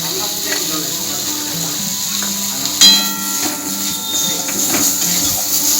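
Tomato chutney with dry coconut and curry leaves fries in a pan, giving a steady, moderately loud hiss with a brief sharp clatter partway through, while someone talks over it.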